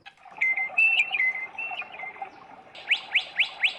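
Electronic warbling chirps from a toy bird, first a wavering trill and then four evenly spaced rising tweets, close and fairly loud.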